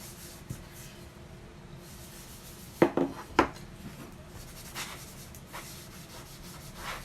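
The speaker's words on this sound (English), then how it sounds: "I just take it and I just rub it on the surface" A dishcloth rag rubbed across the surface of a wooden pumpkin makes a soft, quiet rubbing that runs throughout, with a couple of sharper scuffing strokes near the middle.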